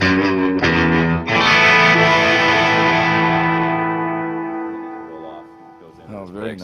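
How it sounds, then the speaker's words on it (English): Electric guitar run through a G-System effects processor, a sustained distorted chord swelling with a pulsing tremolo and delay, loud and close before gradually fading away. "you can hear the tremolo."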